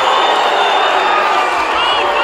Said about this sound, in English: And this Scotus crowd definitely doesn't like that call.